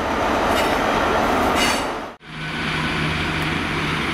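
A train rumbles steadily past at close range at Cardiff Central station with a broad roar, briefly cut off for a moment before the noise resumes.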